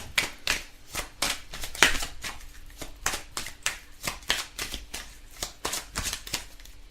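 Tarot cards being shuffled by hand, a steady run of crisp riffling and slapping bursts, close and clear, repeating in a quick regular rhythm with no talk.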